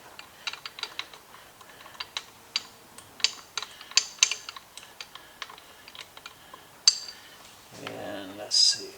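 A ratchet wrench loosens bolts on a power steering pump bracket of a 1995 Buick LeSabre, with a run of close, sharp metallic clicks in uneven bursts, then a brief scrape and a fainter rattle at the end.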